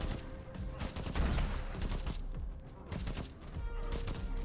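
Rapid bursts of gunfire in the roguelite action game KIBORG: Arena, a dense, continuous fusillade of sharp shots layered over game music and effects for several seconds.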